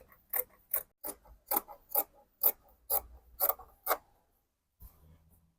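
Scissors cutting fabric straight along the front line of palazzo pants, about nine crisp rhythmic snips at close range, then silence and a faint low thump.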